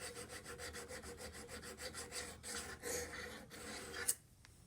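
Blade of rusty Corona garden pruners being sharpened on a stone: a continuous, even rhythm of close rasping strokes that ends with a brief click and falls quiet.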